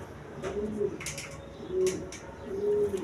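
Pigeons coo on a farm, several soft, low, rounded calls spaced out in a loose rhythm, moderately near, with a few brief higher rustles and taps between them.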